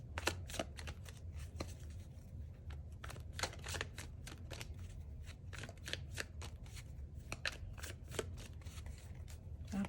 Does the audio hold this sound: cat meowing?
no